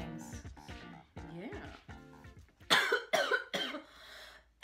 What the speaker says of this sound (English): Oh, choking.